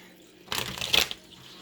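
One quick riffle of playing cards being shuffled, a brief crisp burst up close against an otherwise quiet room.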